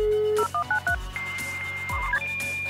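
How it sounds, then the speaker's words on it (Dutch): An old landline telephone dials out to connect to the internet: a dial tone, then a quick run of DTMF keypad beeps and a few short tone pairs, with no voices. "Toen moest je nog inbellen met je telefoon."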